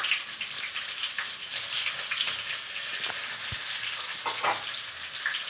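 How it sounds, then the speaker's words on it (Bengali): Chopped onion and tomato fry in a pan with bay leaf, giving a steady, fairly loud sizzle with occasional stirring scrapes and no talking. "এবারে দিচ্ছি টমেটো কুচি"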